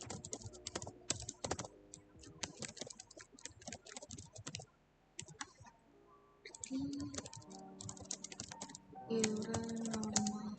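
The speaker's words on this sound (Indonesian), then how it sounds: "Oke, teman-teman bisa mulai ketik" Steady typing on a computer keyboard while filling in a Microsoft Word table, with quick irregular bursts of key clicks and short pauses, under occasional speech.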